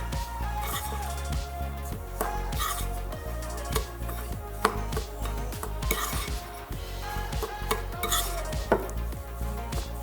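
A mixture containing 8 to 10 drops of lemon essential oil is stirred briskly in a bowl, giving steady scraping and clinking strokes at close range over a faint background.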